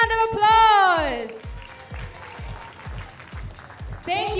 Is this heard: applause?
yes